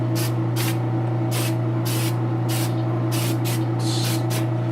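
Testors Dull Cote aerosol sprayed onto a model kit in a series of short hissing bursts, about ten close, sharp spurts at an irregular rhythm over a steady low hum, with no talk.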